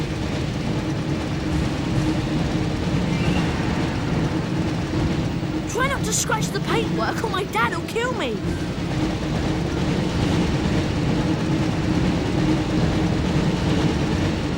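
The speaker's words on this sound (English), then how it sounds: "Looks like we found the train" Hogwarts Express steam train in the PlayStation game Harry Potter and the Chamber of Secrets, a steady rumbling rail roar that runs throughout, with a voice speaking briefly in the middle.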